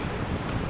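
A brief, loud blast of wind batters the microphone on a soaked Cumbria Way hiking trail, a dense, unbroken roar with no talking.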